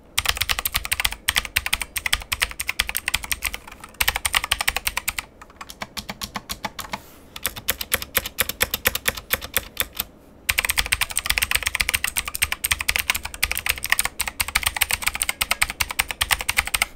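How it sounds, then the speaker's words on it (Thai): Rapid, steady typing on an EGA Type K7 TKL mechanical gaming keyboard with RGB lighting, close and crisp clacking in dense bursts with a brief slower stretch in the middle and no talk. "จุดที่สำคัญที่สุดนะครับในการรีวิวคีย์บอร์ดเกมมิ่งแมคานิคอลนั่นคือเสียงนะ"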